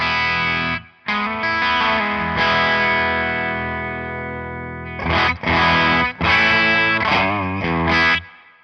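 Electric guitar through an amp, sustained chords ringing out, then a series of short, choppy strummed chords near the end. No voices.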